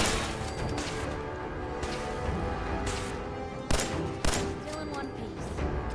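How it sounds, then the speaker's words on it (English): Gunfire from enemy synths shooting in the Fallout 4 video game, a dense stream of rapid shots and impacts with two sharper cracks standing out, steady and moderately loud. "And they're shooting me."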